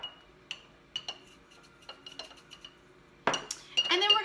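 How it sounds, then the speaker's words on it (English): A metal spoon stirring lemon vinaigrette inside a glass mason jar, with a series of sharp clinks and taps against the glass, close and clear, ending in a quicker, louder flurry of scraping and ringing knocks. "I can use this same spoon just to stir it in the mason jar"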